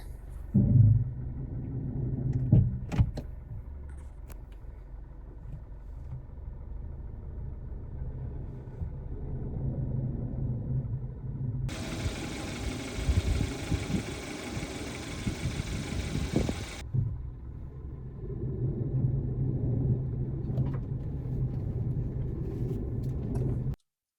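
A car whose brakes rub in the morning rumbles steadily as its engine idles and pulls away, heard from inside the cabin with a loud burst of broadband hiss partway through.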